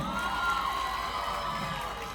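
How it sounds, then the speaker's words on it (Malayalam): Crowd at a live Kerala fusion band concert cheering and whooping with some clapping, a diffuse steady roar of many voices heard from within the audience, moderately loud and sustained. "ഇനി നിങ്ങൾ എല്ലാവരും ചേർന്ന് കൈയടിച്ചേ."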